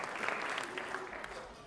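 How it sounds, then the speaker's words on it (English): Short, faint patter of lukewarm clapping from a charity gala dinner audience for the Robert F. Kennedy Children's Action Corps, soft and thinning out within moments. "Tepid applause for that,"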